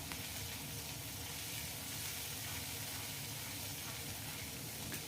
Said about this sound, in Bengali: আদাটা আগে দিয়ে আমি ভেজে নিচ্ছি তেলের মধ্যে